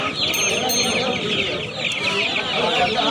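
Many desi chickens cluck and squawk together at the Magrahat poultry market in West Bengal, a dense, loud, continuous chorus of birds close by.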